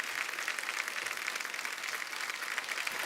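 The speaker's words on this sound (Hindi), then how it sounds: "चलो एक बार जोरदार तालियां mister John Abraham, Divya Khosla Kumar और मिलाप जावेरी के लिए।" Studio audience applause on a Hindi comedy talk show, a dense, steady wash of clapping that fills the whole stretch at even loudness with no voices on top.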